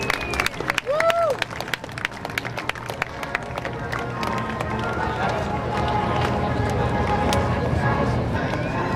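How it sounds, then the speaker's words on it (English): A large outdoor airshow crowd applauds a C-130J-30 Super Hercules demonstration at a Rhode Island Air National Guard open house, steady clapping and cheering building and holding loud across the scene, with a public-address voice and engine noise early on. "A great round of applause for the Super Herc."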